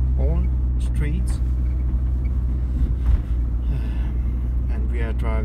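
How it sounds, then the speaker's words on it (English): A car rolls along a city boulevard in Vordingborg, Denmark, its steady low engine and tyre rumble continuous beneath a voice talking throughout. "So we are driving off the Algade now"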